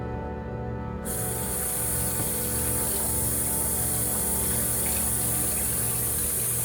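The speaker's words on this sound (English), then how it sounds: "Let's wash some dishes while we wait." Running tap water splashing steadily into a sink while dishes are washed, a loud continuous gush that starts abruptly and keeps going.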